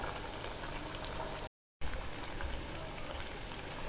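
Onion bajji bubble and crackle as they deep-fry in hot oil over a medium flame, a steady dense sizzle that breaks off briefly midway and then resumes at the same level.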